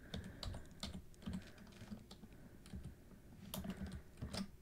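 A course name is typed on a computer keyboard to search in Canvas, producing a steady run of quiet, close key clicks with a few short pauses and no voices.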